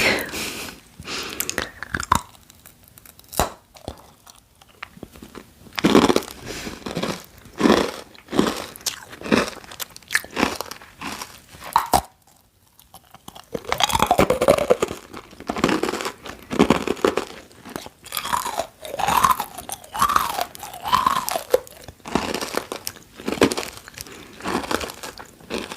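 Crunchy snack chewed close to the mic, with repeated crisp bites and crackly mastication in irregular bursts, a brief quiet gap midway and faint crinkling between chews.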